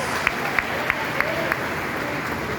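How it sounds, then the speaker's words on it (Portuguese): A congregation claps during a church service: five sharp, evenly spaced claps in a steady rhythm over a soft, murmuring room background, then the clapping stops. "aplauda o Senhor com alegria, em nome de Jesus."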